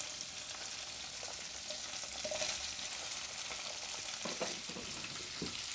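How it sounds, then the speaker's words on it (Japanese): Napa cabbage is stir-fried in an oiled pan, giving a steady, close sizzle with light stirring scrapes and occasional soft clatters. "このぐらい炒まったら白菜を加えます。"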